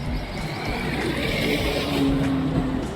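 A motorcycle on a long road trip in scorching heat gives a steady, close engine drone mixed with rushing wind noise that holds level throughout.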